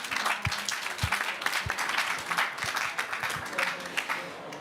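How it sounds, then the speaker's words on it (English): An audience at a conference on climate protection and business competitiveness gives sustained, even applause to four panelists. The clapping is moderately loud and dense and fills the whole moment, with a few sharper individual claps standing out. "give them a warm applause"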